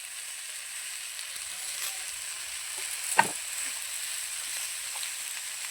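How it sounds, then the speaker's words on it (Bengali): Onions fry in a pan with a faint, steady sizzle and a single soft clink or stir partway through, quiet and without voices. "পেঁয়াজের সাথেও ভালো করে ভেজে নেবো জিনিসটা"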